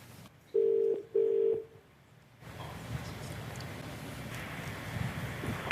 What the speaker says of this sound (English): let's try and call him now